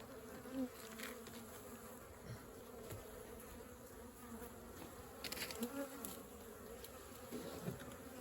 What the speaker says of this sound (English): Decent little clump of bees there though.